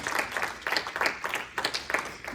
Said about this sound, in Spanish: Dele palmas al Señor si siente gozo.